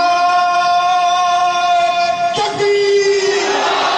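Large crowd at a religious rally in honour of Ghous-e-Azam Jilani, shouting a slogan together in a loud, sustained roar that swells near the end over a droning tone.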